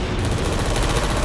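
Rapid automatic turret gunfire from a Portal co-op puzzle video game, a dense, continuous burst of loud crackling shots lasting just over a second.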